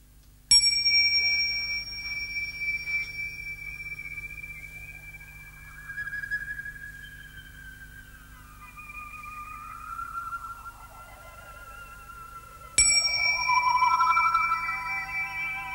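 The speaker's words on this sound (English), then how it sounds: "it starts with the Tibetan bell." A Tibetan bell rings out at the start of a 1977 live hurdy-gurdy performance in Bensberg, its bright metallic tone decaying slowly, with a sliding, swooping tone between two bell strikes.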